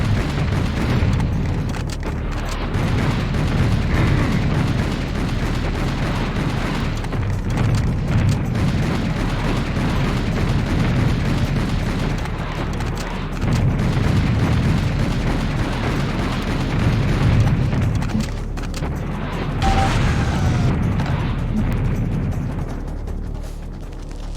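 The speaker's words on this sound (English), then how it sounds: "I forget if you can blow up the rockets. Oh, you sure can." Rockets blowing up in the shooter game Serious Sam, heard as a dense, continuous low rumble of booms and blasts that stays loud for most of the stretch, with brief dips between barrages.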